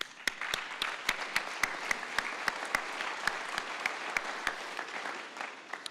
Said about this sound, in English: So I want to give you a round of applause.